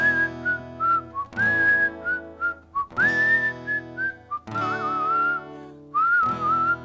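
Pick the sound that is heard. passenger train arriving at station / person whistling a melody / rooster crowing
person whistling a melody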